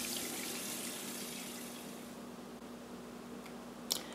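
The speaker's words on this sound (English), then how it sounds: "I rinse my face with warm water and I dry it with a clean towel." Warm water splashed over the face during a skincare rinse, a soft, continuous running-water wash that slowly fades, with a small splash near the end.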